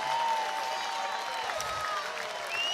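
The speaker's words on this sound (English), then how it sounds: "The crowd goes crazy." Crowd noise rises after a point at a UCLA versus UCSB men's volleyball match, steady broadband cheering and applause filling the gym at moderate level throughout, with no clear talk over it.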